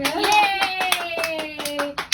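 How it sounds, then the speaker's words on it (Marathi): A small group claps hands after singing a birthday song, a brisk run of about a dozen uneven claps close by, with a faint voice humming a sustained tone underneath. "टाळ्या वाजवा"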